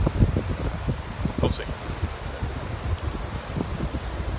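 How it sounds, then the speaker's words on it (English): Strong wind buffets the microphone with low rumbling gusts outdoors in New Orleans, while a person speaks briefly. "It's, you know, nice and windy out."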